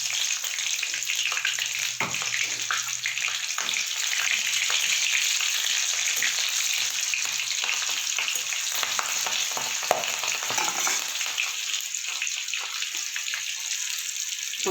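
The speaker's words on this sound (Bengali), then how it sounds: "ফোড়নটা আমার ভাজা হয়ে গেছে" Black cumin seeds and three slit green chillies sputter in hot oil as a tempering, a loud continuous close sizzle with scattered crackles and light stirring scrapes.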